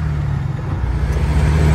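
A semi truck's engine drones in a low, steady rumble heard from inside the cab as it speeds up, the level swelling slightly toward the end.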